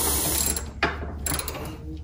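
A ratchet wrench fitted with swivel extensions works on the lower control arm of an 8th-gen 2006-2011 Honda Civic Si, giving close, rapid mechanical clicking in two short bursts with no talk.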